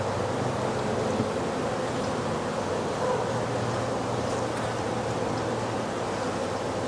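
Honey bees hum in a dense, steady drone at an open hive being worked, with many drone cells and a large mound of bees, the buzz filling the air continuously at close range.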